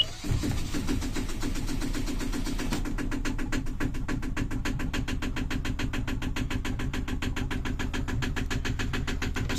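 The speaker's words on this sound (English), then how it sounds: "This is start of the Yanmar GM10." A Yanmar GM10 diesel on a Seamaster 23 yacht cranks briefly, fires and settles into a rapid, steady chugging idle, loud and close, with no voices.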